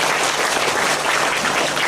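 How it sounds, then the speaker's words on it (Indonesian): Crowd applause fills a religious pengajian gathering led by a female preacher in Java, a dense, steady clapping from the assembled audience that holds at even loudness for about two seconds. "Saya minta tepuk tangan dulu dong"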